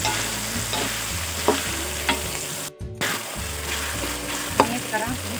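Green eggplant fries in a pan with a steady, loud sizzle, while a spatula stirs it in repeated scraping strokes and a brief dropout cuts the sound midway.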